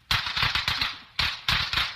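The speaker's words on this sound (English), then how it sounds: "Look, Penny, the new firecrackers. Mr. DePinna and I just got through with them. We can sell them for 10 cents a string. And they pop like the dickens" A string of firecrackers in a radio drama pops in rapid irregular bursts, crackling sharply in two clusters separated by a brief lull, loud and close with no voices.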